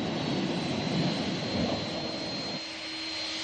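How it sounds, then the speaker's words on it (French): Aircraft at Roissy Charles de Gaulle airport in snowy, icy conditions, heard as a steady, loud jet engine roar that stays continuous, with a lower drone dropping away near the end, and no voices. "les avions peinent à rejoindre la zone de décollage"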